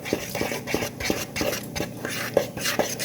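Pancake batter stirred in a bowl for chocolate chip pancakes, a steady scraping swish with light periodic taps of the utensil against the bowl, close and alone.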